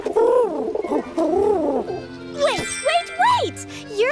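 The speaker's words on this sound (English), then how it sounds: "You're a pigeon." Cartoon pigeon coos in short warbling calls with bright jingling tones, loud and close, mixed with a cartoon character's playful vocalizing.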